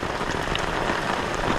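Heavy tropical rain falls on Alor island in Indonesia, a dense, steady hiss of drops pattering on surfaces close by, with no voices.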